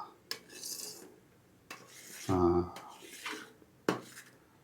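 A spoon scrapes and knocks against a pot while tomato jam boils, giving a few sharp clinks and raspy stirring strokes, with someone talking between them.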